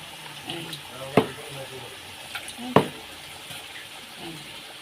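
Water splashes into a pan of cooking chicken in a steady, gentle pour, marked by two sharp metallic clanks of a bowl against the pan.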